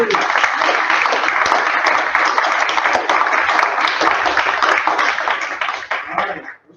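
A full audience applauding a storyteller at a live event, a thick, even wall of clapping from many people that stays loud throughout and then tapers off quickly at the end.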